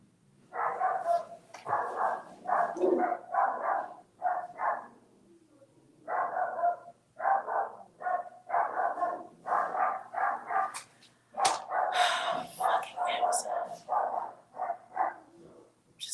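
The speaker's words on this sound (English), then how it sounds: "Just letting my dogs act like nuts." Several dogs bark excitedly in repeated bursts with short gaps, fairly close and lively, with some yips and higher whines mixed in.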